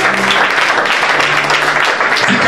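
A church congregation breaks into applause during a French-language Bible teaching on Genesis, a dense, continuous wash of clapping from many hands with voices mixed in.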